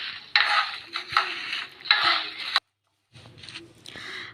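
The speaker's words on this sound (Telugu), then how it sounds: "కారానికి సరిపడా ఎండుమిర్చి వేసి అన్నిటినీ బాగా ఒక ఐదు నిమిషాల పాటు ఫ్రై చేయాలి" Curry leaves, sesame seeds and dried red chillies fry in a pan: a close, crackling sizzle with scraping stirs and light clinks of a spoon against the pan, in short bursts broken by a brief silence.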